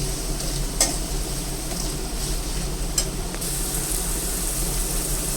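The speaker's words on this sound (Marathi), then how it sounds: "कांदा लवकर फ्राय होईल" Chopped onion sizzles steadily in a hot pan with a little salt for a Veg Kolhapuri dish, a dense continuous hiss with a couple of sharp spatula clinks.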